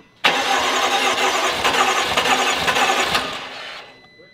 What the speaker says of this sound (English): It's not starting because the fuel pump's disconnected, so it won't fire and we can pull oil up.